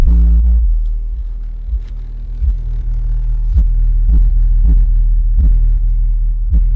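Deep pulsing bass from two Skar VXF 12-inch subwoofers inside a small Honda car, a loud, steady low rumble with rhythmic thumping hits throughout and no talking.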